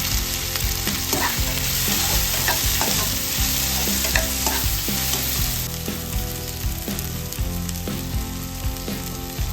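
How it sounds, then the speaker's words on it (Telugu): Tomato pieces fry in a pan with onions, a steady loud sizzle filling the whole stretch, while frequent stirring scrapes and taps of a ladle sound close by. "టమోటా ముక్కలు కొంచెం వేగే వరకు అలానే ఉంచాలండి."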